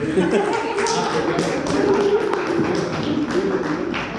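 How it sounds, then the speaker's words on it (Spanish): Audience applause closes a talk at an academic panel, moderate scattered clapping that stays fairly even throughout, with voices talking over it. "cerramos con un aplauso a Carlos."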